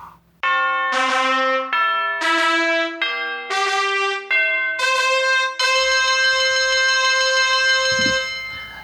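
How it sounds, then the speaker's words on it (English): A resonant bell struck five times in an even sequence to mark review stars, each strike ringing clear and loud, the last one left to sustain and decay, with no speech. "I'm going to use bells to indicate stars"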